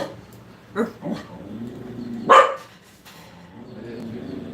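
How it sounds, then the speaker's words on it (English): A dog barks a few times indoors, one or two softer yips followed by a single louder bark, fairly close, over a low room hum. "He doesn't even know what he's barking at."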